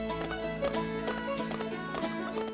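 Hoofbeats of a pig being ridden in the LEGO City Undercover game, a quick run of clattering steps over a bright tonal game soundtrack, fairly close and without speech.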